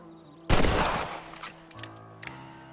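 A single loud rifle shot in the western game Red Dead Redemption, a sharp blast with a long ringing decay, followed by faint clicks and ambient game sounds.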